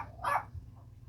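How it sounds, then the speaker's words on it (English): A single short dog bark, somewhat distant and moderately loud, over a low steady background hum with no talking. "My dogs were going crazy."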